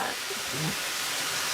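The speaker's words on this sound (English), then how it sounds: "Those tomatoes are starting to soften just a little, sizzling away in their buttery bath." Steady, close sizzling hiss of tomatoes frying in butter in a pan, continuous throughout with no voices.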